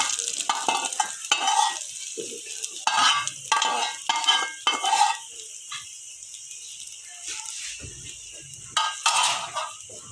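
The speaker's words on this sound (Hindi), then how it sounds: "अब हम इसे साग के ऊपर तड़का लगा रहे हैं।" Hot desi ghee tempering with red chilies is poured over mustard greens and stirred, sizzling in bursts with spoon scraping, then settling into a quieter hiss.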